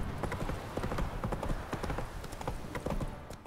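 Roach, the horse in The Witcher 3 video game, gallops with rapid, rhythmic hoofbeats under quiet game ambience.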